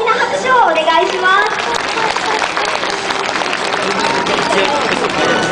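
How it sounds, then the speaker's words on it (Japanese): An aquarium audience on tiered seating applauds the penguins and their walk leader, a dense burst of clapping from a crowd heard under an announcer's voice, sustained for several seconds. "ペンギンたちとお散歩隊長にもう一度大きな拍手をお願いします"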